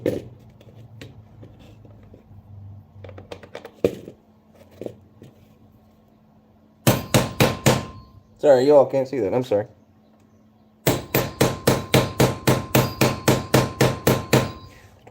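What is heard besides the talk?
hammering while re-webbing a WWII M1 helmet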